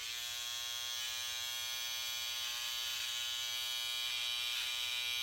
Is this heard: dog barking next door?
no